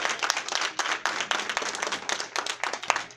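A standing church congregation at a Baptism Sunday service claps for those just baptized; moderately loud, choppy applause with distinct individual claps pulsing throughout.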